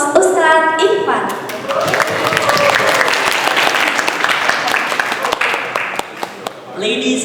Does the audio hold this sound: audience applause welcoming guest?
yes